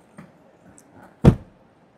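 A few faint rustles and clicks, then one firm, muffled thump as an Isuzu MU-X door shuts nearby.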